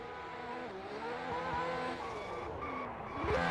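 A Mazda RX-7 FC drift car launches on a qualification run, its engine revving close and loud with rising tones and a climbing pitch at the end, no talking.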